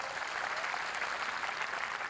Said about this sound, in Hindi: तालियां आप लोगों की थोड़ी सी कमजोर है, जरा एक बार जोरदार बजा दीजिए।